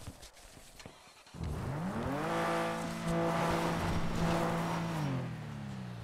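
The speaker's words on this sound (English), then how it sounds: "You hear that loud ass car?" A loud car engine in a video game revs and accelerates with a rising and falling roar, steady and prominent for several seconds before easing off.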